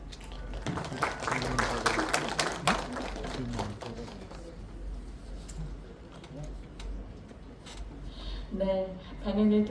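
An indoor audience claps after a lecture at a Cheongju civic forum launch, a burst of scattered applause that thins and fades over several seconds before a voice begins speaking near the end.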